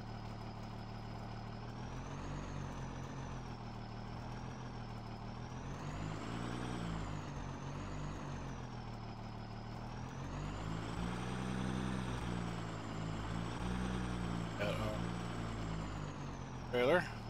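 A truck engine in the farming video game Farming Simulator 17 runs steadily, its drone rising and falling in pitch with a brief hiss near the end, loud and continuous.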